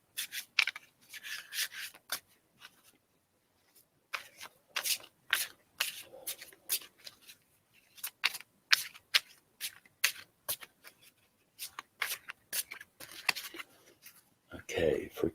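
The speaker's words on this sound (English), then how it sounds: "So let me shuffle these for Kim." Tarot cards being shuffled by hand in a series of quick, rhythmic riffling and rubbing bursts, close and soft, repeating steadily with short pauses between passes.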